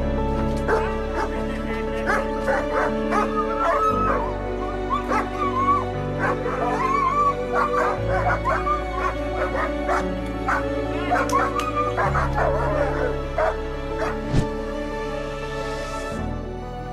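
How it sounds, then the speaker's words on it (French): Dogs yip, whimper and bark excitedly as they reunite with their owner, a soldier returning home, over a steady musical backdrop, with overlapping voices near and far. "Regardez comme les chiens sont heureux de voir leur maître."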